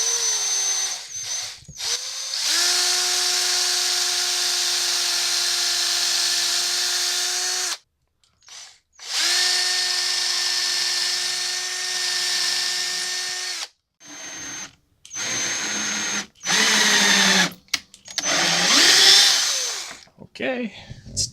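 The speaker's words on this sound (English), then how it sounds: "we're going to get the appropriate size drill and drill the pilot hole for the new screw" A power drill whines in several long, steady bursts at high speed, drilling a pilot hole for a screw in a Music Man bass guitar, stopping and restarting with short pauses between runs.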